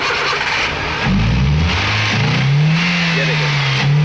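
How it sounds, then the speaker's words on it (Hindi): A 2007 Toyota Xli car engine cranking and starting during a misfire and coil fault check, with a brief starter whir followed by the engine catching and settling into a steady close idle. "गाड़ी स्टार्ट करें,"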